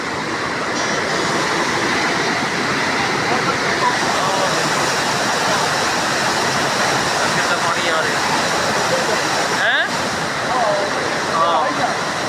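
Water roars continuously through the opened barrage gates at the Harike headworks on the river. The steady, loud rushing fills the whole scene without a break.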